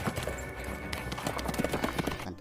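Horse hooves clip-clop in a steady, brisk rhythm, close and fairly loud, with a brief whinny-like tone over the trotting beat.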